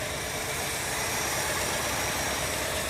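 A 1967 Mercury Commuter Wagon engine idles steadily throughout, a constant low rumble with broadband hiss and no voices.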